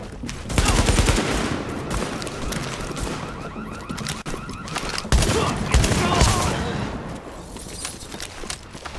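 Shotgun and automatic gunfire in The Division video game, dense bursts of loud shots and clattering blasts throughout, with excited players talking over the action.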